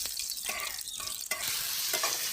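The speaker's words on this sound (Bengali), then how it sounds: "কড়াই গরম হয়ে গেছে, এবার তেলটি দিয়ে দিচ্ছি।" Oil hitting a hot wok while cooking a village-style vegetable soup, a close bright sizzle with bursts of stirring and spattering, continuous and fairly loud without voices.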